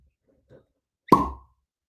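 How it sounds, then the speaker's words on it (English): A cork pops from a Stagg 15 bourbon bottle in a single sharp, hollow plop close to the mic. A faint small sound comes just before it, and the room is quiet otherwise. "Nice cork pop."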